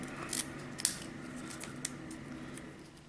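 Scissors snipping through card paper for a birthday card, a few quiet, crisp cuts spaced out over a soft background hiss, close by and with no talking.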